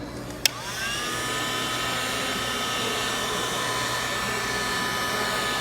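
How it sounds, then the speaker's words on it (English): A heat gun shrinks heat shrink tubing over a wire during a wiring harness repair, giving a click and then a steady, loud blowing hiss that runs unbroken to the end, with no talking. "Plug in our heat gun."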